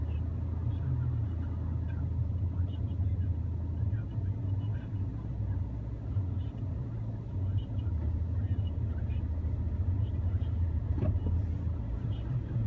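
Inside a car driving home along a road, a steady low engine and road rumble drones throughout at an even level, with what may be a low voice in places.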